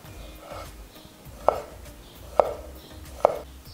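Knife chopping pickled cucumbers on a cutting board, heard as three sharp, evenly spaced chops close by with quieter handling sounds between them.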